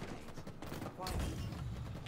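Explosive booms and gunfire from rockets in Halo Infinite ranked doubles, a dense burst of blasts growing heavier partway through, loud and close with overlapping impacts and speech mixed underneath.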